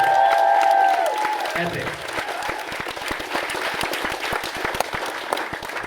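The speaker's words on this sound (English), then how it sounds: "give it up for the speakers today" Audience applause and cheering for the day's speakers at a business event, loud and dense throughout, with a voice speaking briefly near the start.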